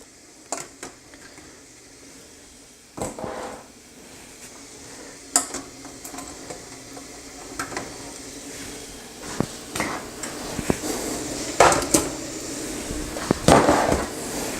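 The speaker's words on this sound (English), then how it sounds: "set them down in the cooker like that." Glass jars of deer meat set into a pressure canner: a series of sharp glass-on-metal clinks and knocks at irregular intervals, with a few ringing taps and soft handling noise between, close by.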